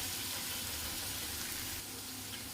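Ginger garlic paste fries in a pan for a chicken liver dish, a steady, dense sizzle heard close up with no voices.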